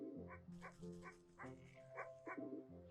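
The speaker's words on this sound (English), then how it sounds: "The anxious little dog attempts frantically to get a town's guard's attention" An anxious little cartoon dog in the game Wytchwood yaps in a quick, frantic run of about eight high barks and yips, close and quiet, with no talking.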